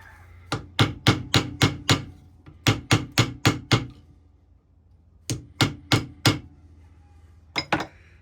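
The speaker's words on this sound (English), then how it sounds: "Need to find a nice little hammer here." Small hammer striking metal during restoration work on a USM3 Kinfolks gun, close and sharp, in quick bursts of about seven, five, four and two blows separated by brief pauses.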